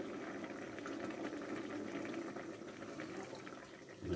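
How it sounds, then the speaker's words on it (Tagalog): Vinegar pours into a cooking pot of paksiw with pork intestines, okra and long green chilies: a faint, steady splashing trickle of liquid, ending in a brief louder slosh. "Lagyan natin suka."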